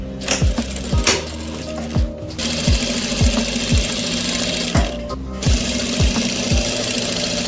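A sewing machine runs a double line of stitching along a kurti seam in loud bursts, its needle thumping rhythmically, with two short pauses where the motor stops before stitching resumes.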